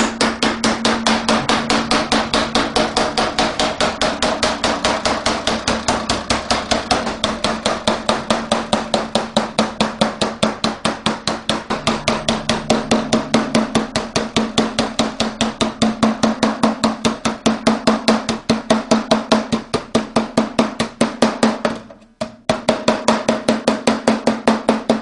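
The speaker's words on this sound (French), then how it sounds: "je vais replier la tôle de laiton en la martelant pour créer le bourrelet" A brass drum sheet is hammered to fold it into a rim, a dense, rapid, steady train of close metallic blows continuing loud and unbroken for about twenty-five seconds, with one brief pause near the end.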